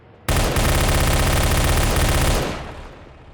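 A pulse rifle in Half-Life 2 RP fires one loud, continuous rapid burst lasting about two seconds, then the sound trails off into a fading echo.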